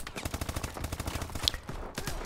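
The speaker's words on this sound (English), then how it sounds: "Where's the gunfire coming from?" Rapid bursts of gunfire in Call of Duty: Advanced Warfare rattle in quick repeated shots, a dense automatic volley at moderate loudness with no talking.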